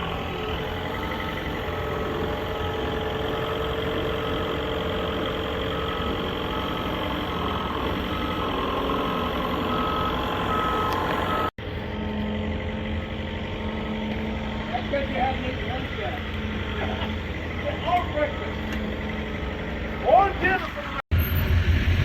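A large engine idles with a steady low rumble throughout, with occasional voices and small clanks nearby.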